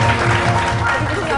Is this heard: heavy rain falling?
no